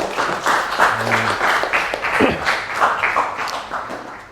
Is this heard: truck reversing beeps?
no